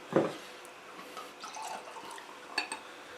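Wine poured into a glass to rinse it, a brief liquid gush at the start, then faint dribbles and light glass clinks, close and quiet with no talk.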